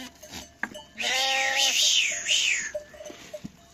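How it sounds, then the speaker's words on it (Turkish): Young goat kids in a village livestock pen let out one long, loud wavering bleat, with faint rustling and clinks before and after. "Arkadaşlar oğlakları da buraya koyduk."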